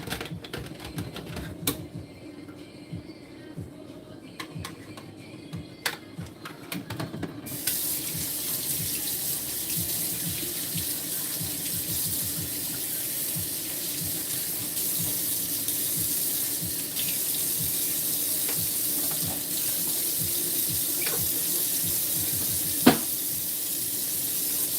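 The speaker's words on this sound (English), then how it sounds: "I'm going to take a moment and clean the water fountain that belongs in there" A pet water fountain is washed under a running tap: a steady hiss of water splashing into a sink that turns noticeably brighter and louder partway through, with scattered clicks and knocks of the plastic parts being handled.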